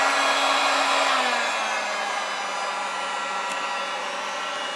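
A heat gun warms vinyl wrap along a seam on a laptop lid, giving a steady close-up blowing whir whose pitch dips slightly after a second and then holds, with no talking.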